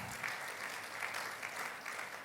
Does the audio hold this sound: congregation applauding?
yes